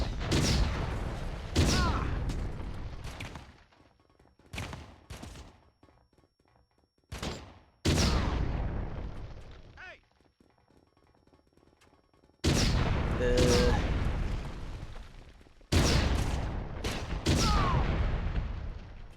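Turret gunfire in the video game Playstation Underground rattles out in long, loud automatic bursts separated by short pauses, heavy and close, with a voice talking faintly in the gaps.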